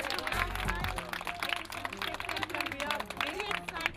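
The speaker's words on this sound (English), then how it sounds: "big round of applause for the volunteers" Clapping for volunteers at a Newkidz home makeover event, fairly quiet and scattered, mixed with voices talking and calling out over it.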